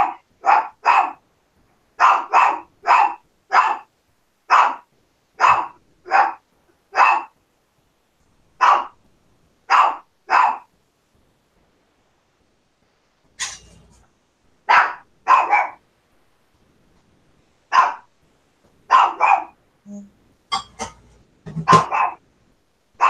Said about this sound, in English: Lord have mercy, there's a dog.